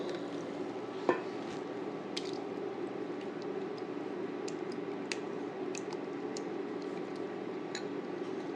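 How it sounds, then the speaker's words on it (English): Whipping cream and sour cream are stirred in a pan, a continuous soft, wet squishing and bubbling with occasional faint clinks of the utensil against the pan. "Stir that up"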